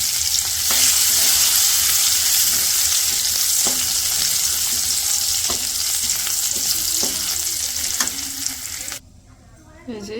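Chopped garlic frying in a pan of dal tempering in a village kitchen, a loud bright continuous sizzle with soft periodic stirring knocks, close up, cutting off sharply near the end.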